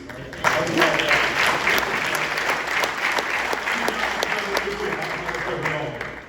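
An audience applauds Coach Bennie Lewis in East St. Louis, a dense, steady round of clapping at close range with some voices mixed in.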